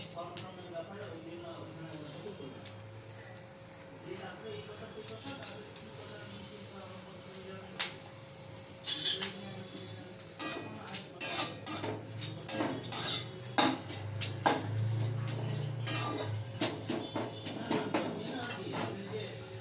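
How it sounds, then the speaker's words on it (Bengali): Neem leaves dry-roasted in a hot wok: a spatula scrapes and clinks against the pan, sparse at first, then in quick, loud, irregular strokes, with faint background noise. "নিম পাতাটা শুকনো খোলায় ভেজে নিয়েছি"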